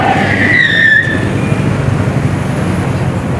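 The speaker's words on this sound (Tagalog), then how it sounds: "Maraming dumadaan. Ay, medyo hinihingal ako. Kasi itong dinadaanan ko is paakyat. Maraming sasakyan." Busy uphill street in Baguio City with many vehicles passing close by, a loud engine rush and a brief high tire squeal early on, then a steady rumbling traffic drone with no talking.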